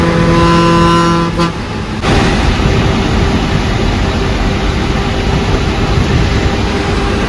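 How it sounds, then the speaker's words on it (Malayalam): A bus engine labors up the ghat road from Pollachi to Valparai, a loud, steady rumble that fills the whole stretch, with a brief horn-like toot near the start. "എൻജിൻ്റെ സൗണ്ട് കേട്ടാ."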